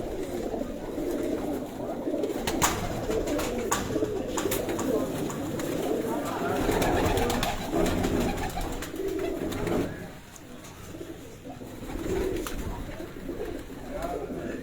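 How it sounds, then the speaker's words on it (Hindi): Breeder pigeons, mixed Sialkoti and Kasuri birds, coo continuously in rooftop loft coops, a dense murmuring chorus with occasional flutters while someone talks over them. "ये तमाम उनके ब्रीडर कबूतर जो हैं ये मैं आपको दिखा रहा हूँ।"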